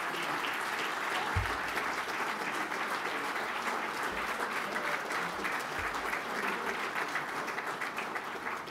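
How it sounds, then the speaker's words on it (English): Steady, dense applause from a dinner audience at a DLA Piper global real estate summit, a large crowd clapping continuously at an even level with a few low thumps, no talk over it. "if you could please stand so we can give you a round of applause"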